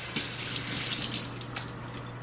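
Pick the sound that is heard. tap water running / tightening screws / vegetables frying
tap water running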